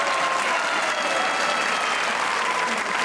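Steady, dense applause from a comedy talk show studio audience, sustained evenly throughout without pauses or voices standing out.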